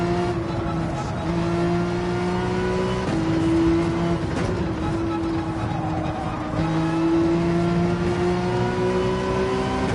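A race car engine in Gran Turismo 7 drones steadily at high revs through an online daily race, its pitch stepping between gears in sustained tones with faint tire noise underneath and no talking.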